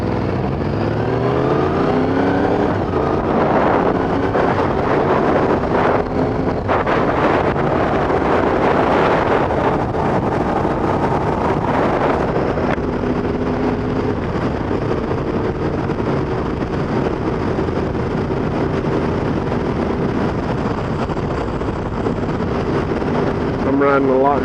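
Motorcycle riding at a relaxed pace on a road, with steady engine drone and loud, constant wind buffeting on the microphone throughout.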